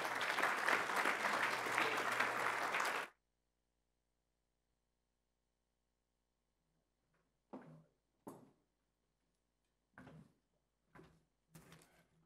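Audience applause at an aviation association event, a dense burst of clapping for about three seconds that cuts off abruptly into silence, followed by a few scattered knocks and bumps.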